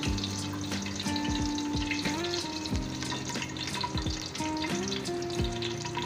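A spoonful of whole cumin seeds frying in hot oil, giving a continuous close sizzle dotted with utensil clinks and tonal scraping sounds, and no voices.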